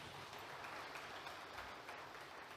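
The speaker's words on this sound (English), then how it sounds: "Give them a round of applause." A conference audience applauds Walter Smith Group at a session of N.I.P.S 2021, producing a steady, dense wash of many hands clapping that sounds faint and distant, with no voices over it.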